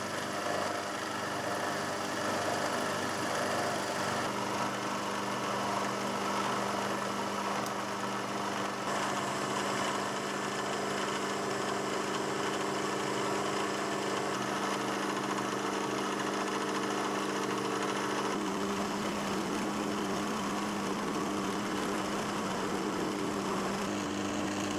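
A knee milling machine cutting a rebate in metal for a thread milling attachment, with a continuous loud motor whine and cutting drone that shifts in tone near the end.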